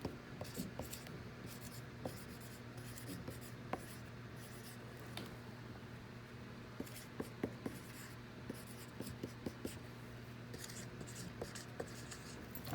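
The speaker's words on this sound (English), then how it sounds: "So I'm going to write 500." Pen or pencil scratches numbers onto paper by hand, giving close, steady strokes and small taps with brief pauses, over a low constant hum.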